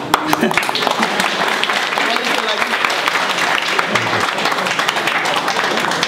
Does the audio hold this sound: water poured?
no